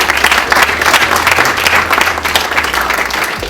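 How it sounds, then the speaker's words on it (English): An audience at a Start Right launch event in Jamaica gives the Butterfly IQ team a dense, steady round of applause, many hands clapping together loudly and close, with a low hum beneath. "A round of applause for the Butterfly IQ team."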